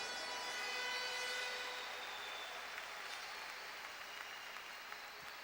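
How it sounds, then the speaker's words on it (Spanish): Church congregation applauding together in a steady, full wash of clapping that holds for several seconds and eases off slightly toward the end, with no voices over it. "Un aplauso a esa actitud."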